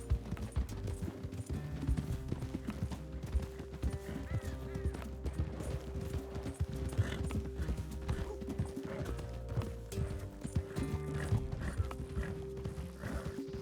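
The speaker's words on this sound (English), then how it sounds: "encourage Bo to ride faster by pushing your horse to match his speed" Horse hooves gallop in a fast, steady clip-clop rhythm throughout, loud and close, with a horse ridden at speed in the Red Dead Redemption 2 video game, under continuous music and ambient game sound.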